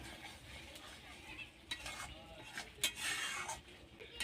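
Spiced cauliflower being stirred in a pan for restaurant-style chilli cauliflower, with soft scraping strokes and faint sizzling that come in a few louder bursts toward the end.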